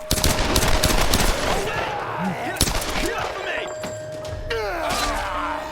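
Bursts of rapid gunfire in the rebooted Tomb Raider video game: loud, dense rattling shots early on, then scattered shots and thuds amid game ambience, with voices speaking over part of it.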